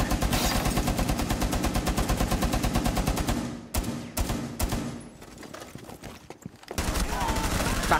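Tachanka's mounted machine gun firing in Rainbow Six Siege, a loud, sustained rapid burst that breaks off briefly into scattered shots and then resumes full-auto, with game sounds and voices mixed underneath.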